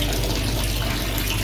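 Water rushes steadily out of a washing machine's drain after its drain plug has been refitted, a constant loud gushing flow with no break and no voices.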